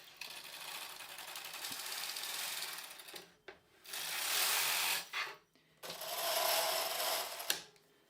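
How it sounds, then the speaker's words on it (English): Domestic knitting machine carriage sliding across the needle bed on a bird's eye back pass, a sustained rasping mechanical whir in a few sweeps separated by short pauses, close and fairly quiet. "On the forward pass, every other needle will knit, and on the way back, the other needle that they didn't knit will knit."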